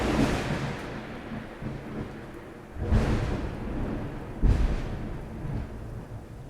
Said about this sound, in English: very bright flashes of lightning followed by very loud claps of thunder